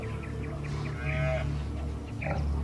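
A young buffalo calf, knocked down by a lion, gives a low, moaning bellow. The call is heard once, moderately close, over a steady low rumble.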